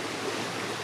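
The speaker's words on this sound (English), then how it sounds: "We're sitting next to a glacial-fed river." Steady broadband rush of a bluish glacial-fed river beside a campsite in Chugach National Forest, Alaska, flowing continuously and fairly close, with no voices over it.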